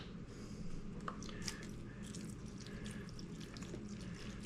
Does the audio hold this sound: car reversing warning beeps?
no